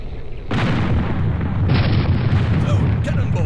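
Cannons fire from an airship in the game Air Buccaneers, with a sudden loud blast and then a second heavy boom a second later, both trailing into a rumbling roar.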